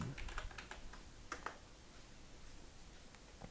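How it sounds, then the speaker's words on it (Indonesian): Someone types a route print command on a computer keyboard, a quick run of close, quiet key clicks in short bursts with pauses between them. "Oke, kita ketikkan root print."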